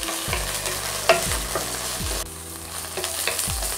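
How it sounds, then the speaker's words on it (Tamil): Okra sautéing for a Tamil vendakkai sambar, with steady pan sizzle and several sharp scraping stirs of a spatula at regular intervals, close and fairly loud, no voices. "சேர்த்து நல்லா வதக்கிக்கோங்க. அந்த குழகுழப்பு தன்மைலாம் போகிற அளவுக்கு ஒரு நமக்கு 2-3 மினிட்ஸ் வதக்க வேண்டியிருக்கும்."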